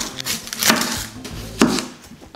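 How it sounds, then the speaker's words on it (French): A knife cuts through an onion on a board, giving two crisp, close chopping thuds about a second apart, with quiet rubbing between them and no talking. "On commence par couper un oignon."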